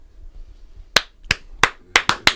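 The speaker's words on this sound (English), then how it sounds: "You're so mad you got to clap." An audience at a comedy show gives a short burst of clapping, six or so crisp, separate claps in a quiet room rather than sustained applause.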